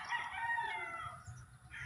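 A rooster crows faintly in the distance over a low background of farmyard noise, a single drawn-out call.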